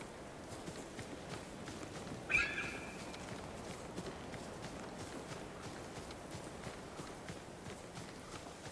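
Horse hooves in the video game Ghost of Tsushima: soft, faint clip-clop steps in a quiet grassy field, with one brief sharper whinny-like cry partway through and low ambient rustle throughout.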